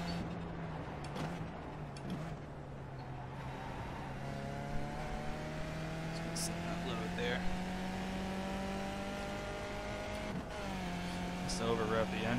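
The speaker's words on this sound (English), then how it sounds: "Overrevved the engine and blew it, or shifted down or something." A race car engine screams steadily under sustained high revs in iRacing at Zolder, with a drop around ten seconds as it over-revs and blows, then carries on at a strained whine.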